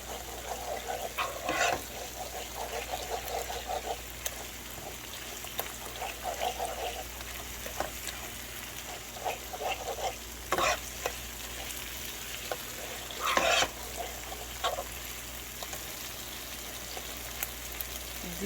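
Tomato pasta (spaghetti) fries in a pan with a constant soft sizzle, broken by scattered scraping and clinking as it is stirred, fairly quiet and steady for the whole stretch with no voices.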